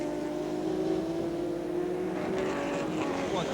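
1979 BMW M1 Procar race cars lapping Donington Park near Redgate corner, a loud, steady engine drone with a sustained tone that rises slightly as the cars pass.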